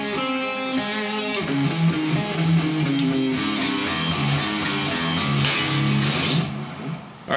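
A descending electric guitar solo run, sliding down through a string of quick melodic notes before settling on a ringing chord, loud and continuous with no talking.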